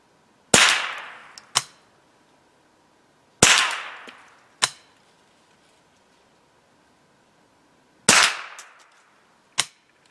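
.22 LR rifle shots from a Stevens Model 87A semi-automatic: four sharp, loud cracks fired outdoors in two pairs, each followed by a brief decaying echo, with quiet gaps between and no talk.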